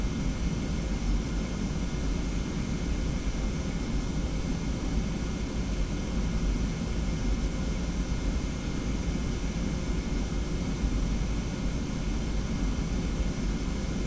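A TFDi 717 airliner taxis at about 7 knots in the P3Dv4 flight simulator, giving a steady, dense engine rumble and hiss that holds at an even level for the whole stretch, with no talking.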